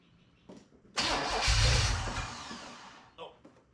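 A 1979 Corvette engine cranks over and fires up, a loud close roar rising after a second of faint clicking, swelling then tapering, with a short blip near the end.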